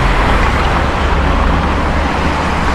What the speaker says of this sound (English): One bus there, just going back in the opposite direction.